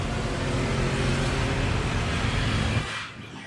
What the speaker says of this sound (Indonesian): Suara mobil di belakang saya masih kedengeran nggak?